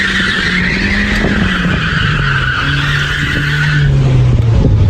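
A cheap BMW Z3 skids hard on loose ground, a loud sustained tire squeal over a revving engine that drops in pitch, close and continuous for several seconds.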